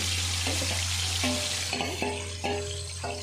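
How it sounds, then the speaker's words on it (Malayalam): Boiled beef pieces fry in hot oil for beef pickle, a steady close sizzle with a constant low hum beneath and a few brief tonal clinks of utensils; no one speaks. "നമ്മൾ ചെറുതായി വേവിച്ച് വെച്ച ബീഫ് എണ്ണയ്ക്കകത്തോട്ട് ഇട്ട് കൊടുത്ത് വറുത്തെടുക്കാൻ പോവുകയാണ്."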